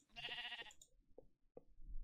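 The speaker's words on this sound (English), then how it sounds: "Oh my gosh, that sheep." A sheep in the video game Minecraft gives one clear, loud bleat, followed by a few soft, scattered clicks and knocks.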